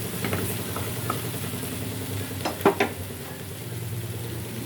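Tomatoes go into a hot pan and fry with a steady close sizzle, a couple of sharp clinks or stirring scrapes near the middle.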